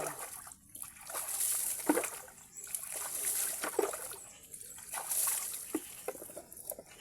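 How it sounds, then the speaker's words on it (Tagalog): Water in a stream splashes and trickles steadily, with irregular louder splatters rising and falling, close by and with no voices. "Ayan po ang ayan po ang aking batis."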